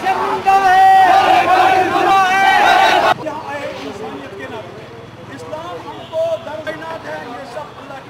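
A loud crowd at a traders' protest demanding justice for Asifa chants together for a few seconds, then cuts to quieter, closer talking with background murmur.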